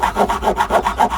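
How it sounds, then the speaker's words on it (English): A fine-toothed X-Acto hobby saw cuts with quick, even back-and-forth strokes, about seven rhythmic rasping passes, close and distinct. "X-Acto saw."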